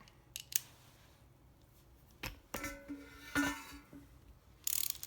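A 10 mm socket wrench undoing exhaust clamps on a Yamaha MT-10 motorcycle gives a few faint, close metallic clicks and short ratcheting scrapes, spaced out with quiet gaps between them.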